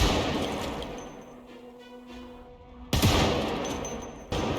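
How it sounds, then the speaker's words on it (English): Loud bursts of Project Zomboid gunfire echo inside a building, a sustained fusillade that fades, then erupts again twice with sharp, heavy onsets. "that gunfire is loud inside the building"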